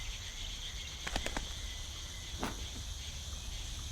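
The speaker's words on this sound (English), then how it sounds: "last thing that's left are the chirping sound of crickets" Crickets chirp in a steady high-pitched drone against a quiet background in the video game The Night of the Rabbit, with a few brief clicks and chirps standing out, no talking.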